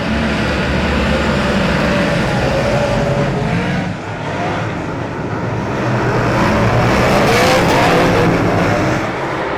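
Superstock race cars circling a track at the New Zealand Superstock Grand Prix in Wanganui at night, a dense, loud roar of engines revving and passing, sustained throughout with shifting pitch as cars accelerate.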